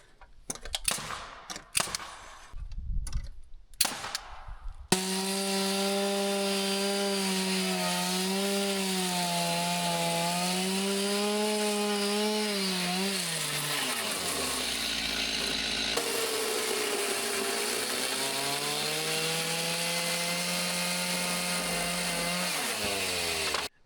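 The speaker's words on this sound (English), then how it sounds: "Before I continue milling for the boards on the other side" A chainsaw mills wood into boards for a carport. Knocks and scraping come first, then the engine roars loud and steady, dipping briefly in pitch as the bar works through the log.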